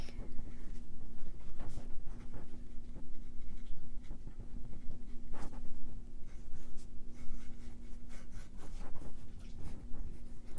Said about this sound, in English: So I'm just gonna write here,